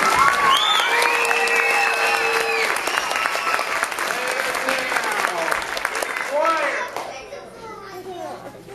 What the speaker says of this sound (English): Give them all applause.